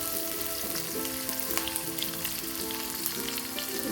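Garlic frying in a pan of oil for tumis oncom, a continuous crackling sizzle with scattered pops throughout and a faint background hum.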